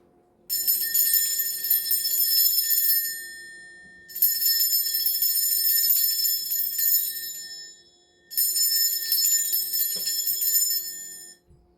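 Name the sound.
bell ringing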